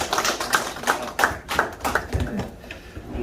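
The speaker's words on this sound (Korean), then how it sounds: "박수를 한번 쳐드려요." Small audience applauding at a museum exhibition opening ceremony, a short uneven patter of claps rising in bursts then tapering off, close and moderately loud.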